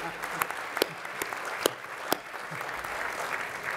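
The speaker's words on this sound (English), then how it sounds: "I think we should give him a round of applause for that." A hall audience at the 2018 Ethnic Business Awards ceremony applauds steadily, a dense wash of clapping with a few sharper claps standing out, moderately loud and fairly close.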